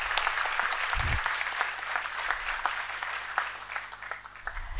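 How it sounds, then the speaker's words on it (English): Loud, dense applause from a tech conference audience for Preston So at Drupal Camp Pune 2019, continuous crowd clapping filling the whole stretch with no voices over it. "I think we should give like a real loud applaud to Preston So for this wonderful start to the Drupal Camp Pune"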